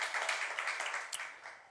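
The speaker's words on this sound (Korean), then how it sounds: "우리 하나님께 영광의 박수 올려드리겠습니다." A church congregation gives a short burst of applause during a Sunday worship service, dense rapid clapping that fades slightly over under two seconds.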